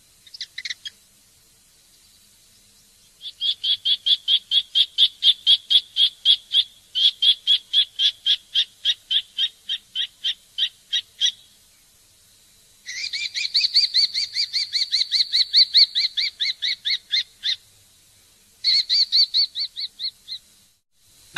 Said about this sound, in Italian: Gheppio.